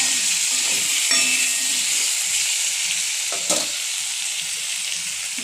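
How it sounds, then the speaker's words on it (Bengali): Potatoes with salt and turmeric sizzle steadily in hot oil in a pan, a continuous loud hiss with a couple of brief clinks from stirring partway through, no voices. "এখানে আলু ভাজা চলছে"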